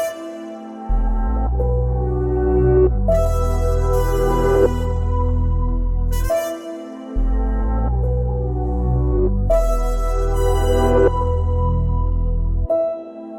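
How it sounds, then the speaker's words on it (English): Sampled trumpet lines and a deep synth bass play in a looping beat-style phrase, with loud sustained brassy notes over a heavy bass that cuts out briefly and repeats, purely instrumental. "some more elements like this trumpet or the synth bass, which sound like this."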